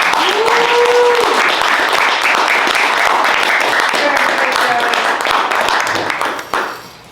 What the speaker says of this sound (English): Give a round of applause for Joey.